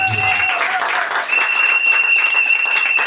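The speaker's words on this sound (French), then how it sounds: "Acclame pour Dieu" A church congregation claps together in sustained applause, a dense continuous patter of many hands that stays steady and fairly loud throughout, with faint voices mixed in underneath.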